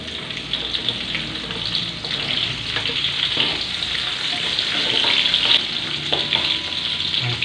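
Mie goreng frying in a pan as chilies go in, a steady loud sizzle with scraping stirring, continuous and close throughout.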